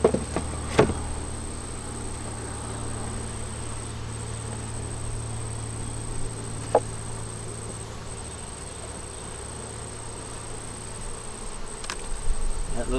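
Honey bees hum steadily around an open beehive during a check for the queen, eggs or queen cells. The buzzing is a constant close drone with a few sharp knocks from handling the hive, and no talk.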